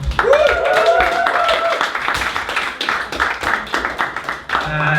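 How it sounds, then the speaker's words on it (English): Scattered audience clapping at an amateur stand-up comedy gig, uneven claps dying away and picking up again, with a voice cheering over the start. "Give a round of applause for everyone you've seen so far."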